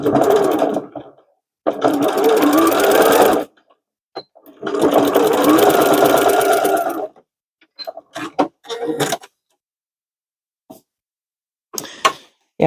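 A sewing machine stitches a drawstring bag in loud, close bursts of rapid needle chatter, stopping and starting with pauses and small handling clicks between runs.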